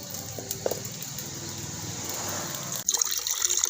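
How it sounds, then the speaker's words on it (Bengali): A cup of water poured into a pan for caramel pudding makes a steady, close splashing pour that ends abruptly into brief clatter and rustling. "কড়ার মধ্যে এক কাপ জল দিয়ে দিলাম"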